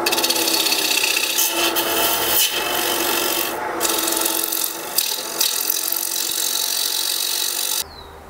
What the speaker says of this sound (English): now I put a new sharpen on my bowl gouge here